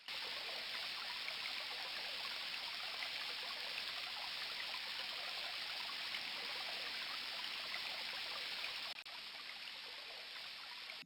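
Steady rushing water of a river beneath a bridge in the King's Quest: Quest for the Crown game, a constant broadband wash like a stream, even and unbroken from start to finish.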